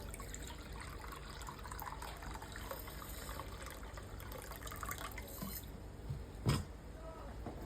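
Half a liter of water poured in a home kitchen, a steady running, filling wash with faint trickles throughout, a brief knock near the end, and no one speaking.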